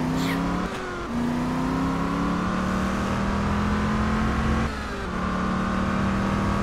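A car engine in the video game Just Cause 2 revs hard and continuously, with two quick gear-change dips in pitch, loud and close.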